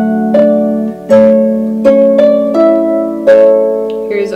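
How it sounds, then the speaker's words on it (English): Plucked wide chords on a small harp ring out one after another from Canon in D, each attack followed by a sustained shimmering decay, about six strums in a slow rhythm. "then you can go back to the wide chords. So that sounds like this."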